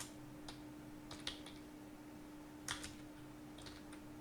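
Quiet keystrokes typing a first name on a computer keyboard, a few short clicks in small scattered bursts over a steady low hum.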